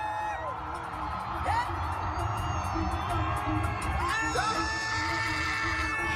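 A large crowd at a Coachella concert whoops, screams and cheers continuously at a moderate distance, with rising yells cutting through the steady roar and voices talking over it.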